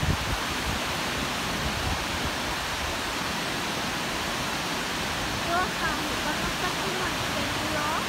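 Shiraito Falls near Mount Fuji, a continuous roaring wash of falling water heard steadily throughout, with faint voices and brief bird chirps over it.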